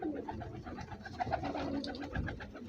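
Star pigeons in a loft give soft, repeated throaty coos, a few overlapping calls close by at low volume with faint background rustle.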